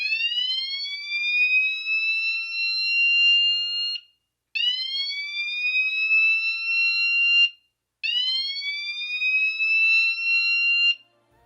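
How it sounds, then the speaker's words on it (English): An Amseco FS2-1R fire alarm sounder repeats a rising slow whoop tone three times, each sweep climbing in pitch for about four seconds, separated by brief silences. "an FS2-1R sounder. It's capable of producing a single polarized tone that resembles a foreign slow whoop"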